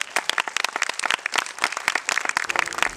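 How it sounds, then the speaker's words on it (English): Audience applause rings out at the 2016 Canada International Film Festival awards ceremony, a dense steady patter of many hands clapping across the whole stretch, with no voices over it. "Ladies and gentlemen, big round of applause for Bella, please."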